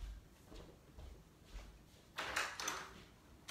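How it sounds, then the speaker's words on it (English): A front door is opened to answer a visitor, heard as a couple of faint, brief knocks and rattles in a quiet room with no talking. "Someone's at the door."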